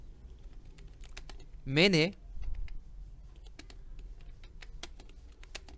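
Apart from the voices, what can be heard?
typing a note on a computer keyboard in Photoshop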